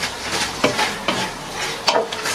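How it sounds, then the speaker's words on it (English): Parsnips are stirred in hot oil in a frying pan, giving a soft sizzle broken by several distinct scraping swishes as the spoon pushes them around, close and fairly loud. "Now we'll add the parsnips. We'll mix 2-3 times."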